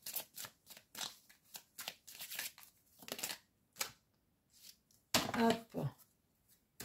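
A deck of cards is shuffled during a card reading, with a run of soft, quick riffling bursts and a louder, denser shuffle near the end, recorded close up.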